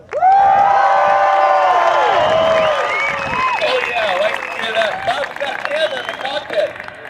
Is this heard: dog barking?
no